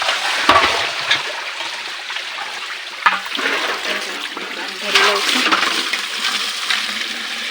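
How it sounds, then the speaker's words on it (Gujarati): Water gushes from a tap into a container in a village home, a steady rushing splash close at hand with a few bumps and shifts in flow. "તો અત્યારે હું પાણી ભરી લઉં છું."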